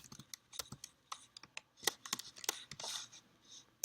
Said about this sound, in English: this is where I need to actually type what he's going to say